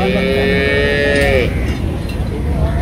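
A cow gives one loud, close, drawn-out moo that fades out after about a second and a half into outdoor background noise.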